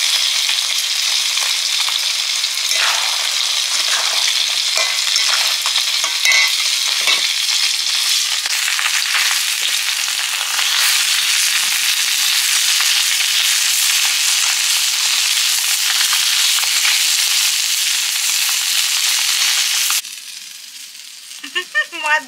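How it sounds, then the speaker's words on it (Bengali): Pond-caught fish frying in a pan for fish curry, a loud continuous close sizzle with crackles and spits, running unbroken until it cuts off sharply near the end, leaving a few faint clinks. "মাছ ভাজা হয়ে গেল"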